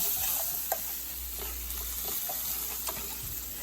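Ingredients for a copycat Applebee's spinach artichoke dip are stirred into a hot flour roux in a pan, giving a steady close sizzle with scraping stir strokes and a few soft clinks, with no talking.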